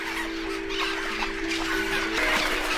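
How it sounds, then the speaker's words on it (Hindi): A flamingo chick calling at a lake edge, a thin sustained tonal cry holding steady then shifting pitch, set against a noisy backdrop of many birds chattering around it. "हर एक शिशु की एक खास पुकार है जो उसके माता पिता पहचान सकते"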